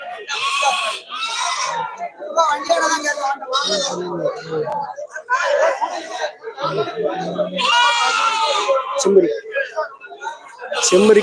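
Goats and sheep bleat repeatedly at the busy Melapalayam livestock market in Tamil Nadu. Several loud, close calls overlap one another, with people's voices and chatter mixed in.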